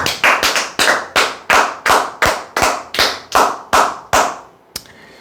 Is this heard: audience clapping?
yes